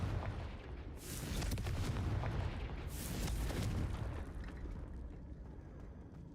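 A Confringo blasting spell explodes in Hogwarts Legacy, played on Nintendo Switch: two deep, rumbling booms about two seconds apart, each followed by a long roaring tail that slowly fades, with no voices.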